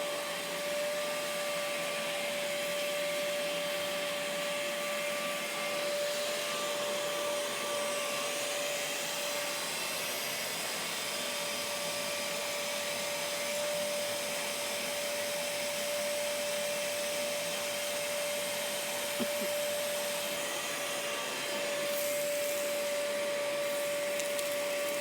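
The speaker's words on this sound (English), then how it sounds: "little tiny hoover." A small hoover runs without pause for the whole stretch in a stone barn being renovated on a Portuguese homestead. It gives off a close, steady whine with a constant high tone and no breaks.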